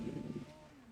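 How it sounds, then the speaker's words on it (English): Car engine droning under wind buffeting, its low harmonic tone rising and falling as the throttle goes on and off; louder at the start, then settling to a steadier, quieter note. "if you just listen to the engine note when I shut up, it's just like you can hear when I'm on and off the throttle"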